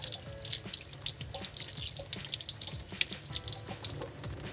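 Delta Touch2O kitchen faucet running at low pressure, a steady gentle stream of water splattering into the sink with irregular splashy drips, quiet and close with no voices.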